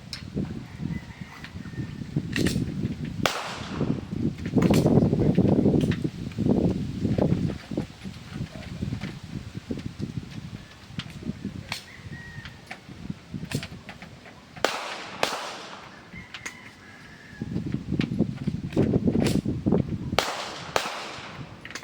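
Several sharp 9mm pistol shots from a Springfield Echelon, Taurus G3 or Armscor STK100, fired at spaced intervals on an outdoor range. The cracks are loud and close, with rustling and handling noise between them.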